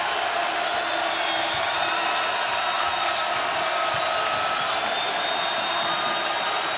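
A crowd at the Fertitta Center for a Saint Louis vs Houston NCAA basketball game keeps up a dense, steady roar of cheering and noise, loud and continuous throughout.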